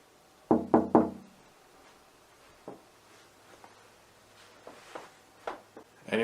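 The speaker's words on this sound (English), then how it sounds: "See what happens if I knock on it." Three quick, sharp knocks rap on a door of a reportedly haunted room, close and distinct, followed by quiet room tone with faint scattered taps and rustles.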